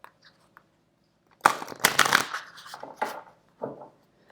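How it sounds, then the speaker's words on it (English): Oracle cards from the Oracle of the Seven Energies deck being shuffled by hand, a few soft riffling and sliding bursts close by after a quiet start, with no talking over them. "shuffle, shuffle, shuffle."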